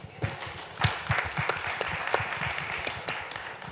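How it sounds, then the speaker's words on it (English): A crowd applauding steadily, dense overlapping claps forming a continuous wash of sound, moderately loud and fairly close, with no voices standing out. "let's give a round of applause, please"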